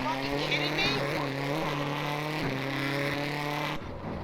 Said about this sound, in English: And a Subaru engine failure.